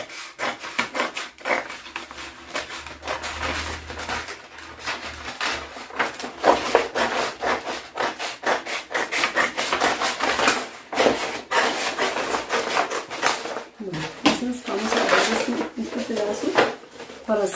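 Paper being marked and cut for a gift bag: close rapid rubbing and rasping strokes in quick succession, with someone talking over them.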